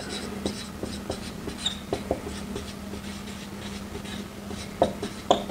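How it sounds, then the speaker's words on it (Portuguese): Writing on a board during a classroom-style lesson: a series of scratchy strokes and light taps, close and fairly quiet over a steady low hum, with sharper knocks near the end and no talking. "até vou escrever aqui, ó."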